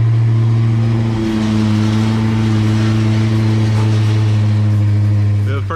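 A Foxbody Mustang, converted from a 4-cylinder to a V8, runs with a deep, steady, close-up engine rumble that holds throughout, while people talk over it.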